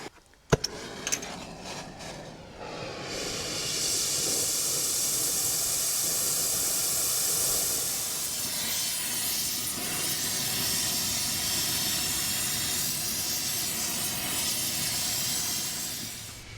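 A gas torch hisses steadily and loudly while heating a stuck part on a disc harrow, a steady broadband roar that settles in after a few brief clicks and knocks at the start.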